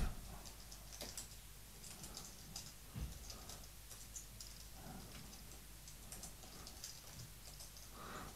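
Keys tap on a computer keyboard in quick, irregular bursts, soft and close in a quiet room, with a few sharper clicks among the lighter strokes.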